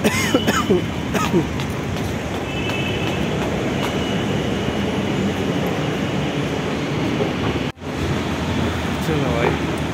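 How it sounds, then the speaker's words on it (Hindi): A metro train running, a continuous loud rumble of wheels on track from inside the car, with faint squeals and a brief sharp dropout near the end. "चलो फिर मेट्रो चलते हैं"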